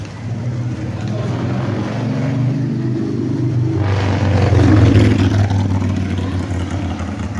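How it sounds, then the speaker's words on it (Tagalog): A noisy motorcycle engine rumbles past on a street in Moalboal, droning and growing louder to a peak about two-thirds through before easing off slightly as it moves on, with no talking. "Hindi ko talaga gusto yung mga maiingay ng motor."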